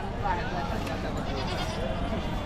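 Goats bleating amid the crowd at a large goat and sheep market in Chakan, Maharashtra, brief bleats mixed into a dense background of people talking nearby.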